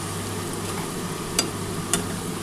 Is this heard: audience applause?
no